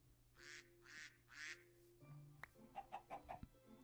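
Fowl in Minecraft, a chicken or duck, giving three short honking calls followed by a quick run of clucks, faint against a quiet game background.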